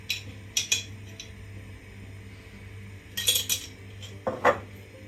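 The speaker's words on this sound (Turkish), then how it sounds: "Karıştırıyorum." A spoon stirs a pot of tomato soup with thin vermicelli, giving a few bright metallic clinks and scrapes against the pot in short bursts over a low steady hum.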